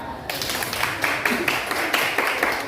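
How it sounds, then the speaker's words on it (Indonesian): A group claps for a classmate team in a classroom, a steady patter of many hands with small rhythmic peaks, moderately loud and continuing to the end. "Kasih tepuk tangan dulu buat kelompok 3."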